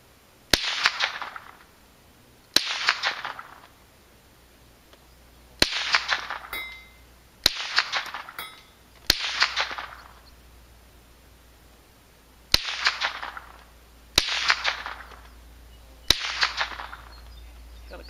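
Marlin Model 60 rifle fired at a distant 200-yard target, eight sharp cracks spaced a few seconds apart, each followed by a short echoing tail, with no talking.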